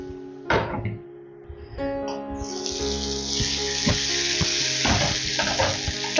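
Onions and tomatoes cook in a covered pan for masala oats, giving a steady frying sizzle with a few clinks and knocks of cookware and a brief splash of running water, all close and continuous with no talking.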